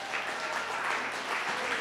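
A church congregation claps in praise during a worship service, with dense, sustained applause filling the room.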